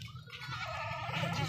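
A top-quality goat in Haripur gives a faint, drawn-out wavering bleat, heard alone over a low background hum.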